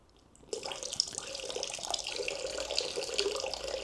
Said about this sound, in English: let me just show you the pouring on here that's not available with the smaller pot